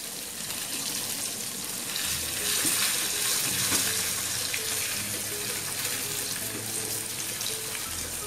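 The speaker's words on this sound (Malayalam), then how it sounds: "3-4 പ്രാവശ്യം അരി നല്ലതുപോലെ കഴുകിയതിന് ശേഷം വേണം കുതിർക്കാനിടാൻ" Rice being washed for a king fish dum biriyani under a running tap, a continuous close rush of water with soft splashing and some handling noises throughout, no voices.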